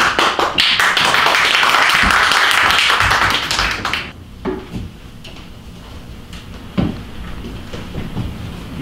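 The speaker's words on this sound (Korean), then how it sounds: "저희 박수 많이 부탁드립니다" Loud audience applause at a church praise concert, dense clapping for about four seconds before stopping abruptly, followed by quiet room sound with scattered taps.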